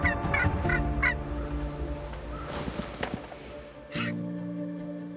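Wild turkey gobbling in the woods during a Wisconsin turkey hunt, a rapid rattling call that sounds several times, loudest at the start and again near the end, over steady hum and faint insect chirps.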